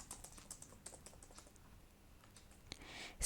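Rapid clicking of computer keyboard keys as code is typed into Eclipse, a quick burst of strokes that pauses briefly and then resumes with a few more taps, close and fairly quiet with no talking.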